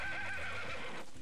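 A horse neighs and whinnies in the farming game Story of Seasons: A Wonderful Life, a loud, close, drawn-out call with a wavering rhythm that fades near the end, alone with no talk.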